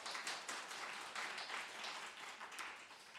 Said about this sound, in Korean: 우리 박수 한번 쳐줄까요?